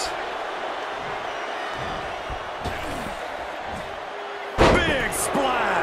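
A professional wrestler's big splash slams a body down with one sharp, heavy impact near the end, rising over crowd noise and excited commentators talking throughout.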